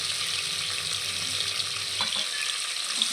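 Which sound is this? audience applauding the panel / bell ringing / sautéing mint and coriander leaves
sautéing mint and coriander leaves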